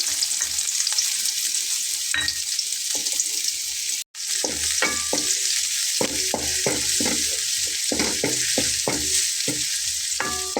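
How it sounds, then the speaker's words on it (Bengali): Chopped onion is dropped into hot oil and sizzles loudly and continuously, with a burst of crackle after a brief gap and repeated spatula knocks and scrapes against the pan. "তেলটা গরম হয়ে গেছে এখন আমি পেঁয়াজটা দিয়ে নিলাম"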